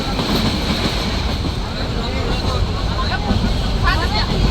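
Local train running on rails through Dhaka in the morning, heard from inside the carriage as a loud continuous rumble with rhythmic clatter, while someone talks over it.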